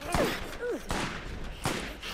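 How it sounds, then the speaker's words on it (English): Three separate, well-spaced gunshots from the Borderlands video game ring out close by, with a voice speaking briefly between them. "Ah, missing all the shots."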